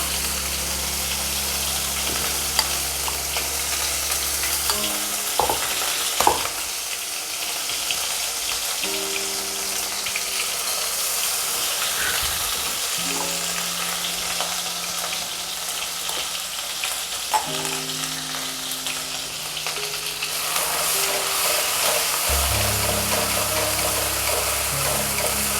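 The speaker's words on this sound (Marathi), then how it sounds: "कांदा ते टाकूयात." Onion with ginger-garlic paste frying in hot oil with crackled cumin and mustard seeds for a drumstick masala, a dense steady sizzle close by with occasional utensil clinks, no talk.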